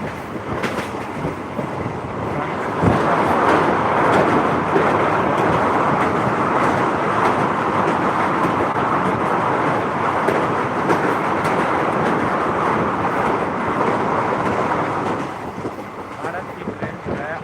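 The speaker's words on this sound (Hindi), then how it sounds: "भारत की ट्रेन जो है अपने निर्धारित समय से जो रफ्तारों में चल रही है।" Indian passenger train running between Bajpatti and Muzaffarpur in Bihar, heard from aboard as a steady loud rumble and rattle of the carriage, with wind noise, fading slightly near the end.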